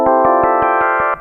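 Ambient Ø synthesizer playing a step sequence in polyphonic mode, two notes sounding per step in a quick even pulse of about six rich, buzzy tones, loud and close, ending abruptly.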